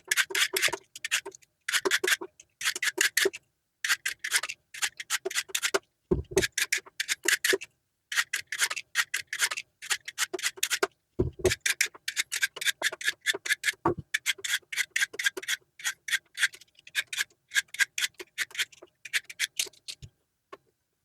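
A peeler scrapes along carrots and a parsnip in quick, crisp strokes, rhythmic runs of rasping close to the mic with short pauses between them, no voices.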